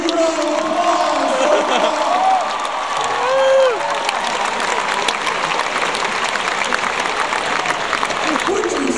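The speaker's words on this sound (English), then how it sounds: "Get him a huge round of applause." A college crowd at a hypnotist show bursts into loud applause with scattered whoops and cheers, steady clapping continuing under occasional shouted voices.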